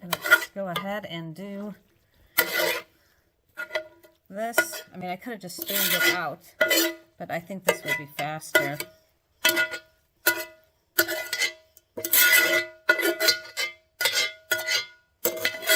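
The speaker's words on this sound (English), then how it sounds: "Sorry for the scraping noise." Metal utensil scraping and clattering against a pot of pinto beans in short, repeated bursts, mixed with a person talking between strokes.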